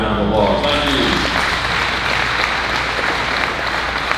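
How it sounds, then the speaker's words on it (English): Audience applause at a livestock sale of champions, loud and dense clapping from a crowd filling the whole stretch, with a voice briefly audible near the start. "Let's give them all the way around the applause."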